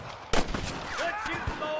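Gunshots in Red Dead Redemption, a sharp loud crack followed by a few scattered lighter shots, with voices talking over the game.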